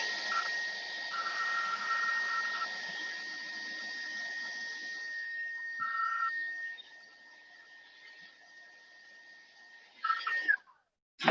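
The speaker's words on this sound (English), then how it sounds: "I have a larger hair dryer, but it's not as powerful as that little small one" A small but powerful hair dryer blows continuously with a steady whir and high whine, then cuts off near the end followed by brief handling noises.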